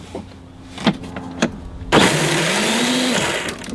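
An electric motor on a 12V Power Wheels Jeep converted to run on 48V, at low speed, whirs in a steady loud drone that starts abruptly after a couple of sharp clicks and holds for about two seconds.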